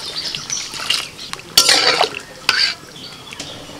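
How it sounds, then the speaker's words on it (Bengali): A pot of food is stirred in a rural kitchen, with scraping utensil strokes and metallic clinks, then short splashy bursts as water is poured in, fairly close and with no talk. "কিছুটা নাড়াচাড়া করে জল দিয়ে দিচ্ছি।"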